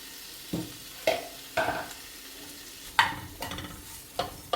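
Potato and pea mixture for potato matar rolls stirred in a pan, a spoon scraping and knocking in repeated strokes over a light sizzle, close and fairly loud, no talk.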